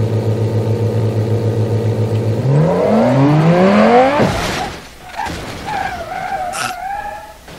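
A car engine in BeamNG.drive revs up from a steady idle hum into rising, accelerating whines, then cuts off with a heavy thud and rumble as the crash settles into scattered clatter.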